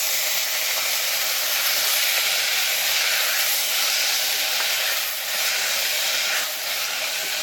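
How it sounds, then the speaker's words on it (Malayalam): Tomatoes fry in a pan for a Kerala breadfruit (kadachakka) curry, producing a loud, steady sizzling hiss that barely changes throughout, with no voices. "ഇതിന് ശേഷം നമുക്ക് നമ്മുടെ തക്കാളി ഇട്ട് കൊടുക്കാം"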